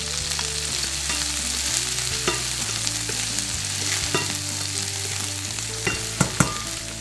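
Seafood and calamari fry in a pan for a seafood risotto, giving a constant close sizzle with a low steady hum beneath and occasional sharp clinks as the food is stirred.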